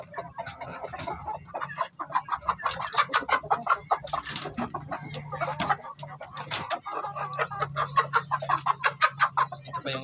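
Hens and a young rooster cluck in a rural yard, a busy run of short repeated clucks and calls from several birds at close to moderate distance, with a low steady hum underneath.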